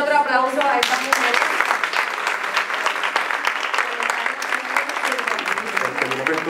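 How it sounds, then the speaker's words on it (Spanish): An audience at an autism congress applauds for several seconds, a dense, steady burst of clapping after brief speech, fading slightly toward the end. "Vamos a darle otro aplauso a esta mujer."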